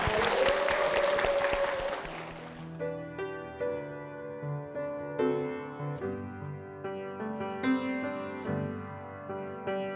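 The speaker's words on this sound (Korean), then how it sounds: "힘찬 박수 부탁드리겠습니다" Applause from a church congregation rises at once and lasts about two and a half seconds, loud and dense, then gives way to soft sustained organ or keyboard music.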